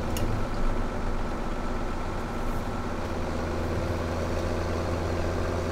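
A tractor engine idles in Farming Simulator 2017, a steady, continuous low diesel rumble with a droning hum, held at an even level throughout with no voices.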